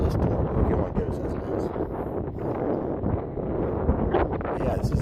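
Strong wind on the deck of the Royal Caribbean cruise ship Independence of the Seas on an overcast day, a loud continuous buffeting roar across the microphone.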